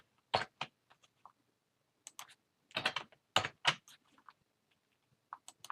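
Typing on a computer keyboard, in quick bursts of key clicks separated by short pauses, fairly close and alone with no talk.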